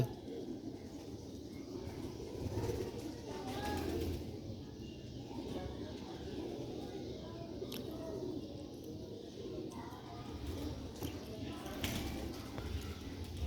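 Sialkoti pigeons cooing in a loft, soft low repeated coos close by over a steady rustling background, with someone talking intermittently.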